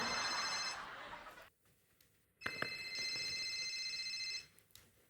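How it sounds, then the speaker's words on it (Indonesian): A telephone rings in short bursts of bright bell-like trilling, quiet and somewhat distant, with brief pauses between rings and faint background noise. "telepon gua bunyi itu"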